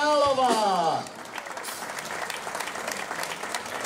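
Audience applause at a Starovičky 2022 stage event, a short burst of clapping from a crowd mixed with a voice at the start, then thinning into a softer, scattered patter.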